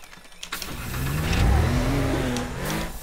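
A car engine in the game Teardown cranks to life and revs up, a rising mid-pitched motor roar that swells and holds near and loud for a couple of seconds.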